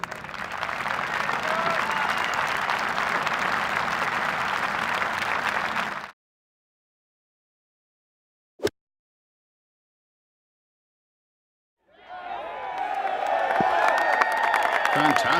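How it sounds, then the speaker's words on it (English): Golf gallery in the Tiger Woods PGA Tour video game bursts into loud applause and cheering for about six seconds, falls silent apart from a single sharp click, then swells back into sustained clapping and cheers. "Fantastic shot. The crowd's loving this."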